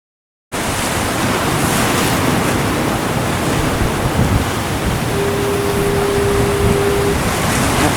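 Rough sea surges against a jetty on a foggy day, a dense, steady roar of crashing surf and wind noise that fills the scene without letup, loud and close, with no voices.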